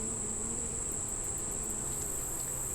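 Honey bees hum in a continuous steady drone close by while a hive frame is handled during an inspection, with no talk.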